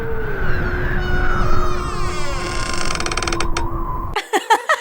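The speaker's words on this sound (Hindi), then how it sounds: "लेकिन दरवाजा अपने आप खुल गया" A door creaks open by itself in a haunted haveli, a long, loud, drawn-out groaning creak with rising squeaky overtones, ending in a few sharp knocking thuds.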